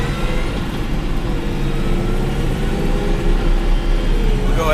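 New Holland T5.120 tractor fitted with an Ekotune tune driving up a hill road, a steady loud engine rumble with road noise heard from the cab, holding even throughout.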